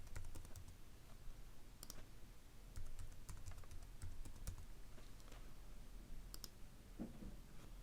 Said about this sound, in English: And let's type in the password for that user.